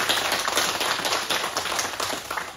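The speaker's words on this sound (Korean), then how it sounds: "올 한 해도 여기까지 인도하신 우리 하나님께 박수로 영광 드리겠습니다" Church congregation clapping together at a year-end Sunday worship service, a dense steady wash of many hands filling the room, fairly loud and continuous throughout.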